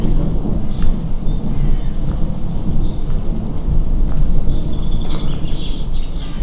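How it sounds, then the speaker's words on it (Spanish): Rain and thunder from the video game Sally Face: a dense, continuous rain wash under loud rolling thunder that swells toward the end, with no talking. "Está lloviendo."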